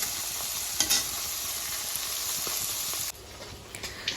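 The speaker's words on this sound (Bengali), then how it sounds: "মাছটা ভাজা লই তারপরে রান্না করুম" Small fish fry in hot oil in a pan with a loud, steady hiss and a few crackles and spatters, close by, before the sizzle drops off abruptly to a quieter simmer.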